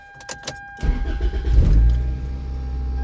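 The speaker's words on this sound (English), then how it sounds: "Can't leave the car running too long because I am in the garage." An 8th-generation Toyota Corolla with a leaky exhaust and a bad engine mount starts up inside a garage, the engine then settling into a steady, deep idle rumble close by.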